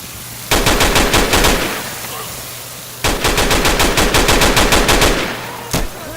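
Two long bursts of rapid automatic gunfire in the video game Insurgency, loud and close, separated by a short pause, followed by a single shot.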